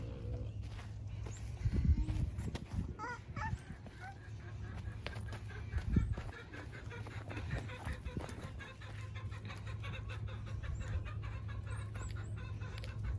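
Chickens clucking softly nearby on a farm over a low rumble, with occasional thumps and shuffling movement in the background.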